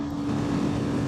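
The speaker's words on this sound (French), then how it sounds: "J'essaie, j'accélère à fond ici." A Yamaha Fazer FZ25 motorcycle engine drones steadily at full throttle, a loud continuous hum with a strong low tone, held throughout the brief moment.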